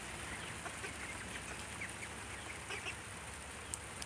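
Ducklings quack steadily at a distance on a rainy day, their small calls scattered over a constant hiss of rain, with no talking.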